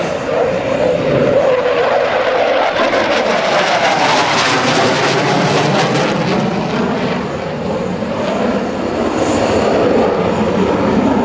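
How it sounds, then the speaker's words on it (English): A US Navy F/A-18C Hornet jet sweeps overhead at low altitude during an air show demonstration, its engines a loud, continuous roar that swells and holds steady as it banks through a decelerating turn. "The Hornet will approach from the left at 500 feet and perform the overhead brake"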